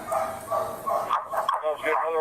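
A police dog barks repeatedly during a bodycam encounter, sharp excited barks mixed with radio chatter and officers' voices throughout.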